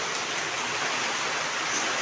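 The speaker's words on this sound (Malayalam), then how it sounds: "ഭയങ്കര മഴയാണ്, അതുകൊണ്ട് സൗണ്ട് കേൾക്കുന്നുണ്ടോയെന്നൊന്നും അറിയില്ല." Heavy rain pours steadily, a dense, even hiss of water falling on surfaces throughout, with no voices.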